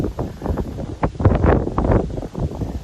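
Gusty wind buffets the microphone in an old Baptist cemetery, rising and falling in irregular rumbling surges with no voices.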